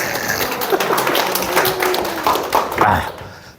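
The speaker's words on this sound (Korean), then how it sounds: "박수 한번 주시기 바랍니다" Scattered hand clapping from an audience at a lecture on relationships and communication, a few seconds of brisk, uneven claps heard nearby and fading at the end.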